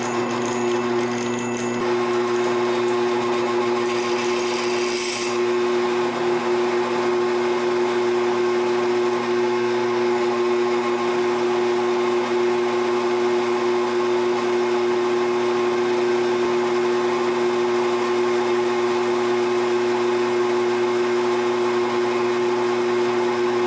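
A drill runs steadily through a scrap piece of wood in a workshop, a loud continuous whine holding an even pitch throughout, with a brief shift in tone early on and no voices over it.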